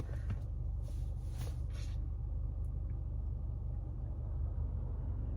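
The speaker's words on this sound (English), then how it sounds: "I'm getting easily distracted by UPS drivers and random cars that are just coming past by" Steady low rumble of cars and delivery trucks passing outside, a constant muffled road-traffic drone with a slightly louder vehicle pass early on, heard from indoors with no talking.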